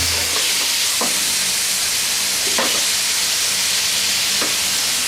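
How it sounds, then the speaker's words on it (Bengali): Marinated chicken breast frying in a hot pan for shawarma, a loud, steady sizzle with a few faint scrapes and taps of a utensil, close up and with no voices. "প্যানটা গরম হইলে তখনকার মেরিনেট করা আমার এতগুলো একটা ব্রেস্টের মাংস এর মধ্যে ঢেলে দিব"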